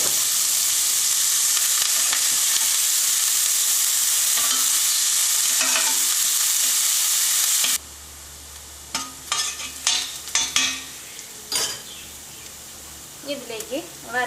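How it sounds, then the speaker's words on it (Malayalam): Onions, green chillies and curry leaves sauté in a pan for rajma masala: a loud steady sizzle first, then quieter bursts of stirring and utensil clatter with a few faint voice-like sounds. "ഇനി നമുക്കിതിലേക്ക് അരിഞ്ഞു വെച്ചിരിക്കുന്ന സവോളയും പച്ചമുളകും വേപ്പിൻ്റെ ഇലയും ചേർത്തിട്ട് നന്നായിട്ടൊന്ന് വഴറ്റാം"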